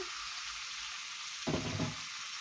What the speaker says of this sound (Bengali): মাংসটা দিয়ে মাংসটার সাথে ভালো করে মশলাটা